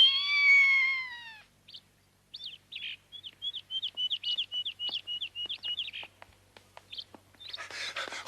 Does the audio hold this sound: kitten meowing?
yes